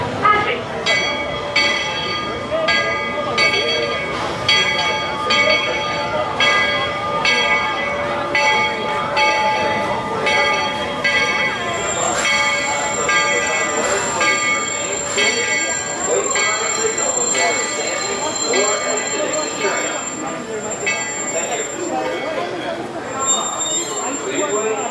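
Walt Disney World Railroad train at Frontierland Station, its bell ringing in steady repeated strokes over rumbling rail noise, with a sustained horn tone joining partway through.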